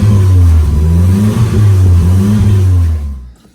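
A Mercury Capri fitted with a 1986 Mustang SVO engine, started after sitting about three years, revs loudly and close with a deep rumbling idle before cutting off abruptly.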